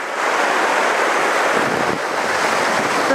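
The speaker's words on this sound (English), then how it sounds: "Look at these rapids coming down here." Rushing water roars continuously and loudly, a dense, steady churn of rapids on the Annan River close by, with wind buffeting the microphone.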